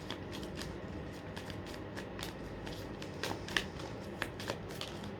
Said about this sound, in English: That was my shuffling there, guys.